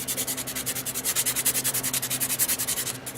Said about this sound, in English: you just go around sanding the entire form